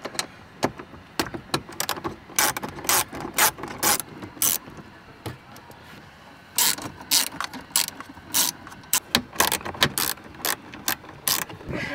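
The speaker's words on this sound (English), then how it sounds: "10mm sockets under here we got to disconnect, so let's give those a little quick wrench." A ratchet wrench loosening 10mm bolts under the dash of a fifth-generation Toyota 4Runner, giving rapid rhythmic clicking in repeated short bursts, close and loud with no talk.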